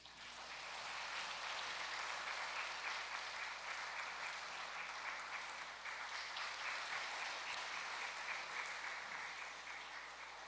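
Church congregation applauding together, a dense, steady wash of clapping that swells in and holds evenly throughout, fairly distant and without talk.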